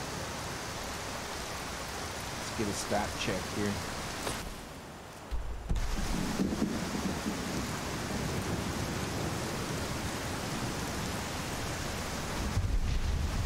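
Steady hiss of rain and a low thunder rumble in the video game Skyrim, a continuous dense wash of rainfall with a deeper rolling swell partway through; someone speaks briefly over it.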